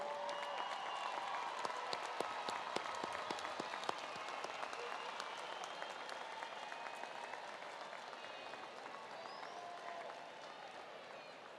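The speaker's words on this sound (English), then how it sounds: "please stand and turn to the audience and give a big round of applause" A large graduation ceremony audience claps in sustained, dense applause that slowly thins and fades toward the end.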